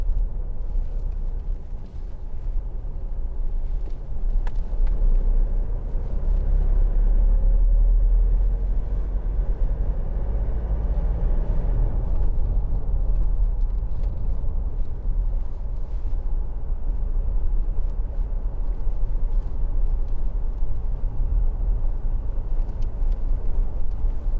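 Steady low diesel rumble from a 2016 Toyota Hilux 2.5 D-4D Icon double cab 4WD pickup driving on a test drive, continuous cabin engine and road noise with no talking.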